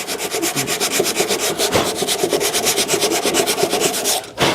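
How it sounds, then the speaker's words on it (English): Sandpaper rubs back and forth over a wooden mid-century modern desk to remove loose glue, a loud close rasping in fast, steady strokes that stops briefly near the end. "I'm going to get a little bit of sandpaper in here and try to sand down any loose glue that still may be there"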